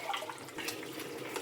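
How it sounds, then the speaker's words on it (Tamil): Water is poured into a pan of mushroom curry during cooking, giving a soft, faint, continuous splashing trickle for over a second. "ஊற்றிட்டு தண்ணி தேவையான அளவு ஊற்றிக்கலாம்."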